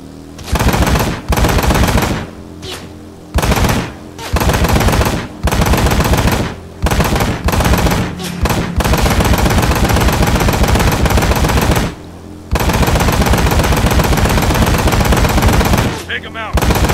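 Machine gun bursts from the video game Ride to Hell Retribution, loud and sustained, coming in long rapid volleys broken by short pauses, with voices talking over the gunfire.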